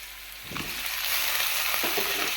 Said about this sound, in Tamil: இப்போ நான் ரெண்டு தக்காளி சேர்த்துக்கிறேன்